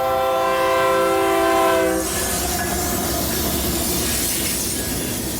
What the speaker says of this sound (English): Following right on the tail of this grain train was another one with a LARP 9 leading.